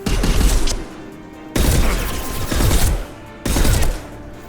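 Video game gunfire in Mass Effect 2, loud rapid bursts of automatic shooting in three separate volleys with brief lulls between them, close and heavy, with no voices over it.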